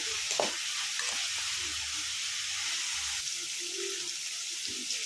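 Egg bhurji sizzles steadily in a hot pan while a spoon scrapes and stirs it in short, soft strokes, close and continuous with no talking.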